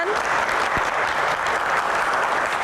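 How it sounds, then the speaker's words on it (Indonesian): An Indonesian Q&A studio audience applauds a deputy home affairs minister's entrance, a thick, even wash of many hands clapping at full strength throughout, with a faint tonal sweep near the start. "Tepuk tangan."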